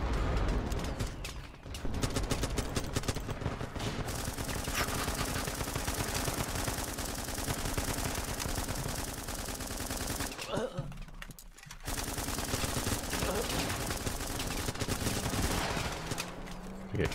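Gunfire and mortars in the video game Running With Rifles: rapid machine-gun bursts and rattling shots fill a loud, nearly continuous battle soundscape, briefly dropping away before the firing resumes.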